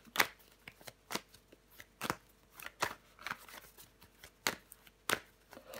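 Tarot cards are handled and drawn up close, giving a series of sharp, soft snaps and papery slides spaced irregularly through a quiet room, with no speech.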